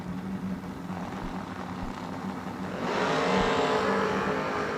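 A former Lucas Walker Mustang drag race car launching into a wheel stand at World Wide Technology Raceway: a steady engine drone that swells abruptly into a louder, fuller roar partway through, heard from a distance.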